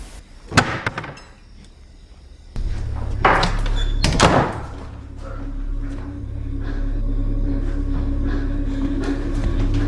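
A bedroom door slams shut with a sharp thud, followed by heavy knocking and scraping as a wardrobe is pushed against it, then a steady low hum.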